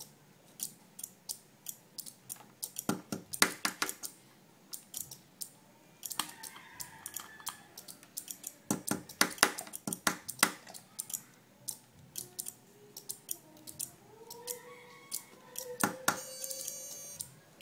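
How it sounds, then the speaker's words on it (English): A homemade relay flip-flop oscillator clicks in fast irregular bursts of sharp mechanical snaps, close up and fairly quiet against a faint background hiss. "that is the sound of the oscillator."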